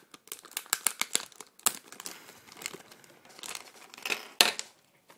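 Plastic blister packaging of a Beyblade Thermal Lacerta WA130HF being opened, with quick crinkling crackles and sharp tearing snaps at close range, in irregular bursts with short pauses.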